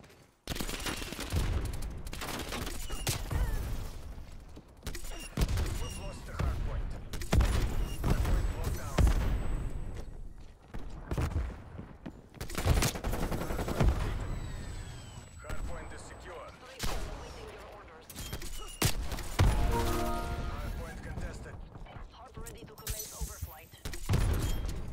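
Black Ops Cold War gameplay fills the scene with rolling gunfire and heavy booms from a strafe run, sustained bursts and explosions from start to finish, with occasional game voice lines mixed in.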